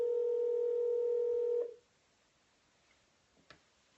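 Telephone call tone on an old-style landline line while calling a sales prospect, a steady ringback-like tone holding for about a second and a half before cutting off into near silence with faint clicks.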